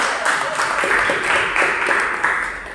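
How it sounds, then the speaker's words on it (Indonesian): A room of people claps together in a brief burst of applause, steady and moderately loud, tapering off toward the end. "tepuk tangan buat kita semua"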